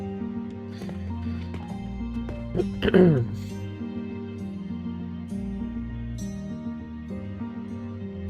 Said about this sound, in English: my coughing is getting a little bit less